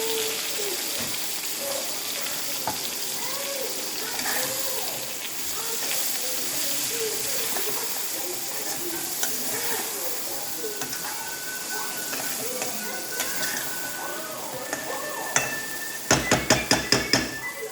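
Pointed gourd frying in a pan with a paste of mustard, coconut, green chilli and garlic, a steady close sizzle and hiss with scattered spatter pops, ending in a few sharp clinks of a utensil.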